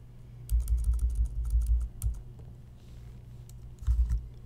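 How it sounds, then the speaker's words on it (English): Typing on a computer keyboard, with bursts of close, quick key clicks and thumps in two clusters separated by a short quiet gap. "Just fiddling with my keyboard there for a minute."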